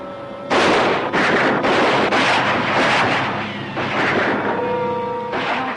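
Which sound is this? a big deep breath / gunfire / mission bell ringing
gunfire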